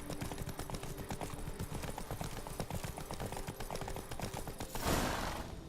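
Geralt's horse Roach galloping in The Witcher 3: Blood and Wine, steady rhythmic hoofbeats clopping close and clear throughout, ending in a brief rushing whoosh.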